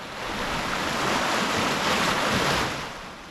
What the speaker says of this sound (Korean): 종점에 가까워지자 조금씩 파도가 잔잔해지기 시작했습니다